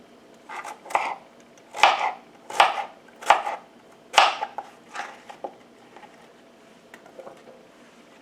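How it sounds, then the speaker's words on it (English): A knife slices yellow squash and onions on a cutting board in a row of crisp, evenly spaced chops, about eight firm strikes that then trail off into lighter, quieter cuts, with no one talking. "we'll come back when I'm done slicing up everything"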